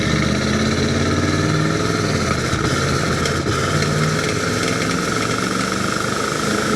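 Engine of a lowered 1991 Chevrolet 454SS truck rumbling steadily from inside the cab while driving, a continuous loud drone with no talk over it.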